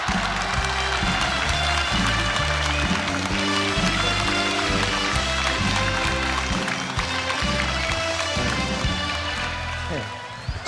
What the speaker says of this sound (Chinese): 掌声欢迎